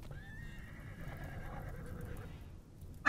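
A horse in the video game RimWorld whinnies loudly for a couple of seconds, its call rising and trailing off, with faint hoof clopping underneath.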